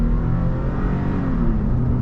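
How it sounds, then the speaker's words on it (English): 3rd-gen Toyota Tacoma with a ValleyRunner tune pulling under light throttle: a loud, steady low engine drone heard from inside the cab, continuous and even throughout, no speech. "we're gonna do a little bit of acceleration here."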